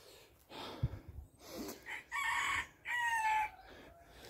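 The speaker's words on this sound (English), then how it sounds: "I've just put up the rooster and my rooster is crowing." A rooster crows twice in succession outdoors, the calls loud and clear after some soft background shuffling and knocks.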